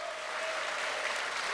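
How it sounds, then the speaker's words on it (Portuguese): A church congregation applauds during a Portuguese-language sermon, a faint, distant, even wash of clapping with no pauses. "Você pode aplaudir o Senhor?"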